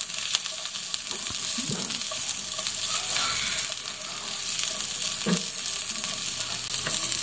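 Onions and whole peppercorns sauté steadily in hot oil for sinigang, a loud, continuous sizzle with occasional stirring scrapes and clatters.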